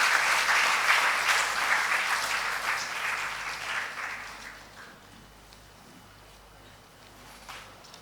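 An audience at a World Anatomy Day event gives a sustained round of applause that starts full and fades gradually over several seconds into near quiet, with a faint voice under it.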